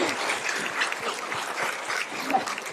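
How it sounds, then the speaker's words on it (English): A live audience claps warmly for a person on stage, a dense, even patter of many hands that keeps going for the whole short stretch without building or fading. "Because they will applaud you again,"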